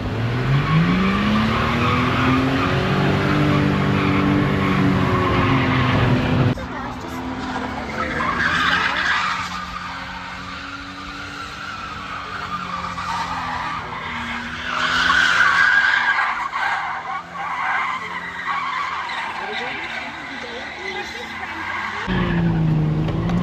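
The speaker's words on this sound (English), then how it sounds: "I'm going to go rip a bloody skid now" A burnout car rips a tyre skid at a track, the engine revving hard under loud, sustained tyre squeal, then a long, rasping, smoky screech that rises and falls before the engine note returns at the end.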